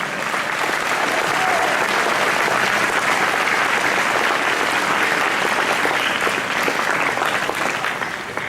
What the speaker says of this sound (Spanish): ¿Puede dar un aplauso fuerte al Señor?